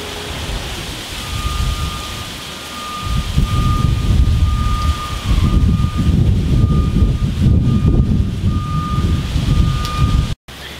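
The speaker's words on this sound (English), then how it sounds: "Ah, it's windy." Wind blowing outdoors on a beautiful but blustery day beside a grill. A loud, steady roar buffets the microphone with a rumbling low end for nearly the whole stretch, then cuts off briefly near the end.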